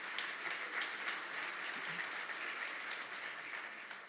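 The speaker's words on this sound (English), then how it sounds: "you should clap for that" A conference audience at a food and agriculture venture summit applauds in a dense, steady wash of clapping that holds at an even level throughout, fading slightly at the end.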